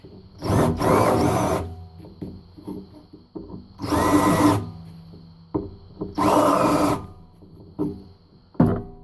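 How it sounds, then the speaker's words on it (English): Three bursts of a power drill with a countersink bit grinding into wood, each a couple of seconds long, separated by short pauses. "hit it with the countersink"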